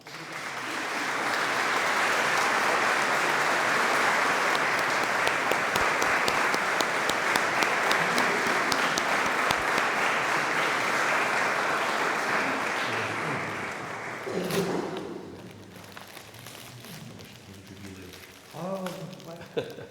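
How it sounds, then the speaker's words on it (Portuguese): A church congregation at a Mass honouring Saint Barbara gives the priest a long, loud ovation, dense clapping sustained for many seconds before fading out into voices and room noise. "Por o Sr. Cônego de Loures, uma grande salva de palmas."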